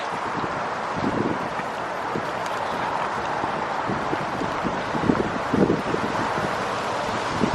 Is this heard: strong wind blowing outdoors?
yes